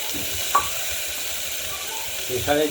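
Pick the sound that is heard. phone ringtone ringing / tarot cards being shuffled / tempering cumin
tempering cumin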